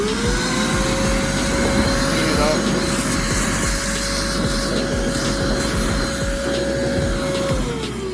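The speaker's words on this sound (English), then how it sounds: "I'll turn on a vacuum cleaner, clean it" A vacuum cleaner drones loudly and steadily throughout, its whine holding one pitch before cutting off near the end, with a brief voice over it.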